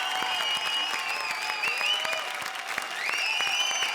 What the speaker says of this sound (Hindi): जोरदार तालियां हमारे 6 के 6 ट्रायोस के लिए